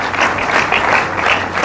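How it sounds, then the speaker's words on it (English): Audience applause for a university council chairman at a 50th anniversary colloquium of the University of Calabar, a steady dense wash of clapping held at even loudness throughout, with no voices over it. "A round of applause for him."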